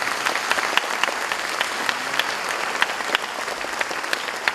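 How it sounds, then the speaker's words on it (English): A large crowd applauds steadily at a university convocation ceremony for degree recipients, a dense wash of clapping from many hands that holds at an even level throughout. "Please give a huge round of applause."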